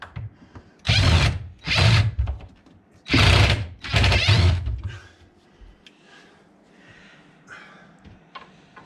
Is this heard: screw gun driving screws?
yes